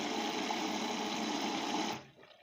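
A washing machine drawing in water and detergent during a load of white shirts, a steady rushing whir that cuts off abruptly near the end, fairly quiet and with no talk.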